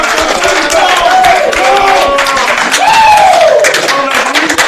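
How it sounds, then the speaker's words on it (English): A big round of applause for a volleyball team gathered indoors for an evening coach's show, dense, loud clapping running throughout with scattered cheering voices mixed in. "Ladies, first of all, big round of applause. You give yourself a round of applause."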